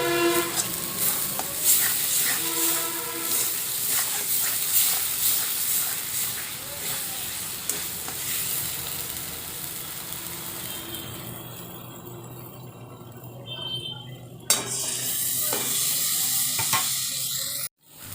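Spice paste for potol aloo dum fries in oil with a constant crackling sizzle, while a spoon stirs and scrapes the pan now and then, with a louder clatter near the end.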